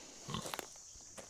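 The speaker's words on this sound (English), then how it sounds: "These pigs, although they're a pasture pig, they really do love the forest." A pasture pig grunting briefly in its forest pen on a homestead, a short low snort followed by faint rustling and soft movement, no talk.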